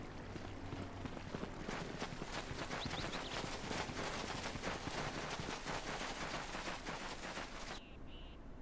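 Rapid, continuous turret gunfire in the video game Star Wars: KOTOR II, a dense, loud stream of shots that cuts off abruptly near the end.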